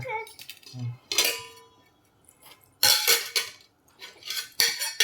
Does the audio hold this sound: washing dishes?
yes